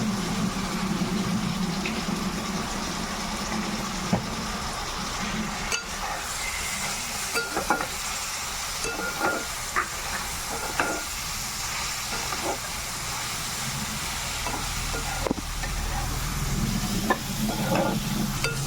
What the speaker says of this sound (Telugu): ఈ రొయ్యి పొట్టుని శుభ్రంగా బాగా ఏగనివ్వాలి